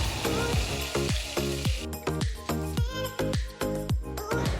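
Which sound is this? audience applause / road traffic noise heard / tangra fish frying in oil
tangra fish frying in oil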